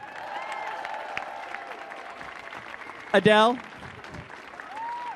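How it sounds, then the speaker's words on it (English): Applause from a theater audience at a Literary Death Match show at the Millennium Stage, a steady mid-level clapping that runs throughout under a host's amplified voice, with a short loud burst of cheering partway through. "Applause."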